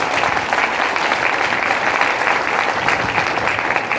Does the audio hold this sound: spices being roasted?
no